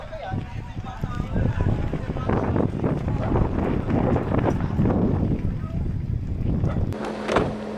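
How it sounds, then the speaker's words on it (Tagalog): Strong gusty wind roars and buffets the microphone continuously at a cold campsite, with people talking faintly beneath the noise. "Lakas ng hangin tapos yan, napakalamig."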